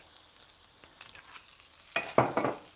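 Yakisoba noodles fry in olive oil, a quiet sizzle under a few louder bursts of stirring and scraping near the end.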